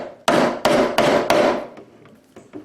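A chisel is tapped across the grain into wood for a Windsor chair, four sharp, close, evenly spaced strikes followed by a couple of fainter knocks.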